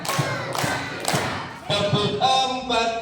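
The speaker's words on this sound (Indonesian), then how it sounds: "Tepuk satu, tepuk dua, saya pantau ya." An audience claps along to a spoken count in a parents' storytelling session, producing several loud, close hand-claps in uneven bursts with a voice talking between them.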